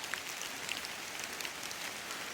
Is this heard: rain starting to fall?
yes